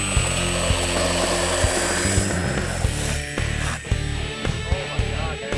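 An electric RC Cessna-based MC-172 trainer plane flies at an airport, its motor whining loudly and steadily with a strong buzzing hum that shifts slightly in pitch as it passes.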